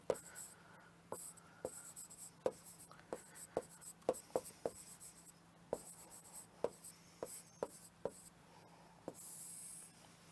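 Chalk or marker strokes on a classroom board, a steady series of short, sharp taps and scrapes at close range, with no talk.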